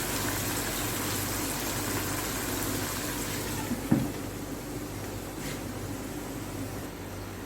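Keema and macaroni boil together in a pot of water, a steady close hiss of bubbling that runs the whole time, with one brief knock partway through.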